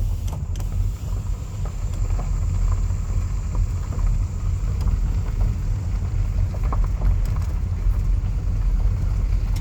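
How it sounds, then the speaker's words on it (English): A car rolls along a gravel road in rural Bethlehem, Georgia, with a window partly down, giving a steady, close low rumble and crunch that runs throughout with scattered small ticks. "I'll roll my window down a little bit so you can hear the sound of driving on a gravel road"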